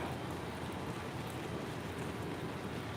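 Steady rain falls outside an arena on a Denver-bound evening, a dense, continuous hiss of drops spattering on surfaces with no breaks, fairly close and even throughout.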